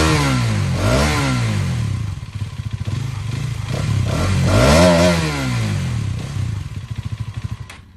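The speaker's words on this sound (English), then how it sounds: "this is how the new Karizma XMR sounds like" A Hero Karizma XMR 210cc liquid-cooled, double overhead camshaft motorcycle runs up close, its exhaust rising and falling through several throttle revs with a lumpy idle burble between them.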